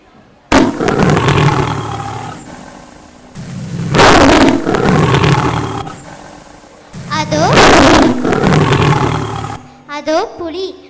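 A cartoon tiger in an animated children's story lets out three loud, drawn-out roars, each lasting a couple of seconds with short pauses between, followed by brief softer growls at the end.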